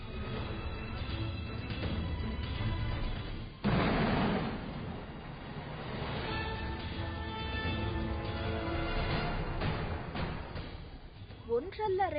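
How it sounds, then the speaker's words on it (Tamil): Bombs buried in the ground are detonated one after another in a controlled demolition, throwing up dust; a heavy boom and rolling rumble sound under someone narrating throughout. "மண்ணுக்குள் புதைத்து வைக்கப்பட்ட வெடிகுண்டுகள் புழுதியை கிளப்ப பயங்கர சப்தத்துடன்"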